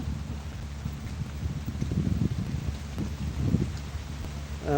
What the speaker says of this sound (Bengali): হঠাৎ করেই কিন্তু আসলে এই বৃষ্টিটা চলে আসে